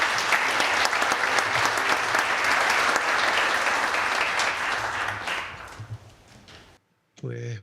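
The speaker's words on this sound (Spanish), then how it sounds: "le damos un fuerte aplauso y la bienvenida" An audience at a conference presentation bursts into loud, dense applause that holds steady, then tapers off around the six-second mark before a voice starts speaking right at the end.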